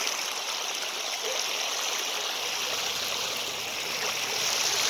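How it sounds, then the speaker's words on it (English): Rain runoff streaming down a residential driveway, a steady close hiss and gurgle of flowing water that holds evenly throughout with no voices. "See all the water flowing."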